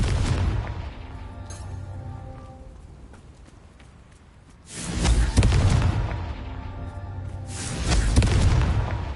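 A spell-blast explosion in a video game goes off as a deep, heavy boom with a rumbling tail, then a second booming burst a few seconds later, both loud against a low background rumble.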